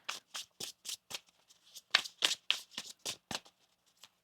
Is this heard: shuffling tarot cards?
yes